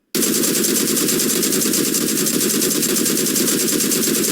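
A long, loud unbroken burst of rapid automatic gunfire in PUBG Mobile starts abruptly and hammers on at an even rhythm until the end.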